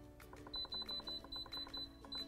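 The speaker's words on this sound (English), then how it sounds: "Now we're gonna go ahead and push the pressure cooker manual button." An Instant Pot pressure cooker gives a quick run of short, faint electronic beeps as its buttons are pressed, about ten chirps in a rapid, slightly uneven rhythm over a quiet kitchen background.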